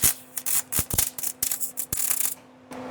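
Wire-feed welder welding poorly with old wire, an irregular crackling, sputtering buzz in uneven bursts that breaks off near the end.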